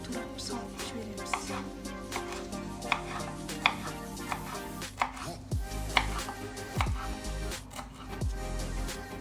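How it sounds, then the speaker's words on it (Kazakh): Knife chopping dill on a board for a cabbage roll filling of minced meat and rice, a quick steady run of close, sharp taps with a few heavier thuds near the end. "укроп турап салып жібереміз"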